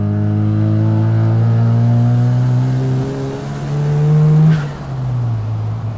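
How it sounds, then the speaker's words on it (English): A 1972 Mazda RX3 Savanna with a restomod 13B turbo rotary engine revs loudly up close, a smooth rising buzzing drone that climbs to a peak around the middle and then settles back toward idle. "It wasn't exactly a big rev by Rotary standards"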